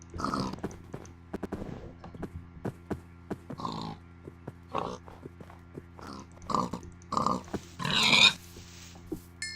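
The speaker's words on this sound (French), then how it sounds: "Ah, des cochons." Pigs oinking in Minecraft within a snowy biome, a series of short grunts at irregular intervals over a steady background, with a louder, brighter burst near the end.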